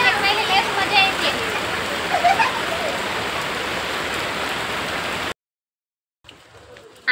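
Rain falls steadily in a broad, continuous wash of patter at a rural home, fairly loud and close, before cutting out abruptly near the end and returning faintly.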